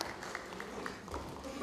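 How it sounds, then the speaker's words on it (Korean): Audience applause at a university's 90th anniversary ceremony, following an academic award presentation; a steady, fairly faint wash of clapping that fills the whole moment without a break. "축하의 박수를 부탁드립니다."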